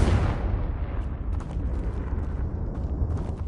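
A big fiery blast from the Confringo spell in the video game Hogwarts Legacy, a loud booming explosion that rumbles and crackles away over a few seconds.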